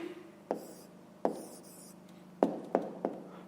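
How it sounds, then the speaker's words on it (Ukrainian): A pen writes a math answer by hand on paper, a quiet scratching with five distinct strokes tapping down at uneven intervals, otherwise near silence. "а зараз записуємо відповідь, пишемо відповідь"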